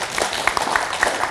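An audience claps briefly during a lecture, a short spell of scattered, fairly loud handclaps layered over a noisy room.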